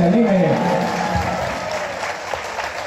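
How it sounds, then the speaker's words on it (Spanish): A crowd at a seminary feast day gives loud, sustained applause for the mariachi band, steady clapping with some cheering and musical tones underneath, gradually easing over a few seconds. "para que le demos otro fuerte aplauso para que se anime"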